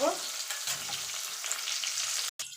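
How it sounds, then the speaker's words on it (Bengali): Tangra fish frying in a pan, a bright, even crackling sizzle held close and steady, with a brief cutoff near the end. "তো চলুন আমি মাছগুলো ভেজে তুলে নেব।"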